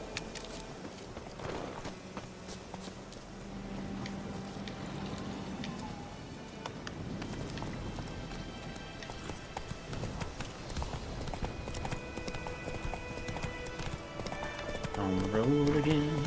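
Hooves clip-clop as a horse gallops along a road in The Witcher 3: Wild Hunt, a steady fast rhythm under game music and ambience, with louder effects near the end.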